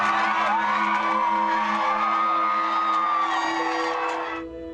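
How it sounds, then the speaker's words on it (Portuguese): Outside the courthouse after the guilty verdict in the Jodi Arias murder trial, a large crowd cheers, whoops and shouts, a dense roar of voices that fades slightly at the end. "O público comemorou lá fora."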